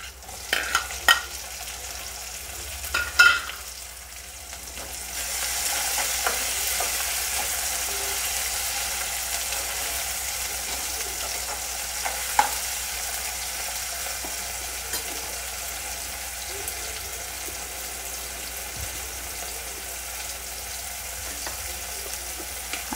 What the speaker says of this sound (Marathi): आता टोमॅटो घालून घ्यायचं आहे.